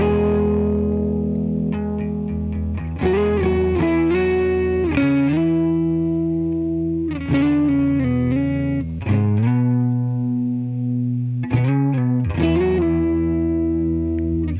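Distorted electric guitar playing a riff in octave shapes, thick effected notes in a repeating phrase with sliding pitch bends, loud and close with no talking.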